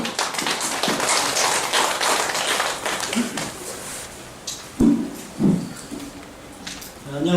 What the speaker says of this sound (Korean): 박수로 힘차게 맞아주십시오.